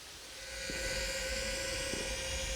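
A military drone passes very close overhead, its steady high-pitched whine swelling in within the first half-second and holding loud over a broad hiss of wind and background noise.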